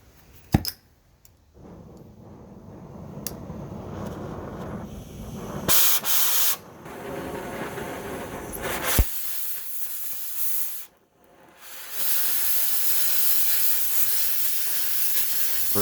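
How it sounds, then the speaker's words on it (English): Oxy-fuel torch cutting steel for a vintage bench grinder pedestal gives a loud, steady roaring hiss up close, shifting in tone as the cut moves, with a couple of brief breaks and surges along the way. "Same concept applies for torch cutting too. The rest of these cuts go way smoother."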